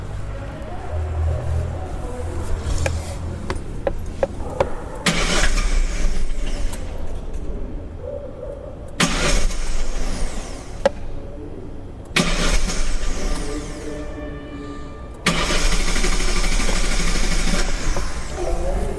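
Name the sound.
car engine cranking during automatic diagnostic start test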